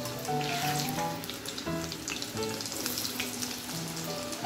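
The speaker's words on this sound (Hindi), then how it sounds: "आलू को भी फ्राई कर लेते हैं।" Potatoes frying in hot oil give a steady, dense sizzle with crackling bubbles, continuous and close throughout.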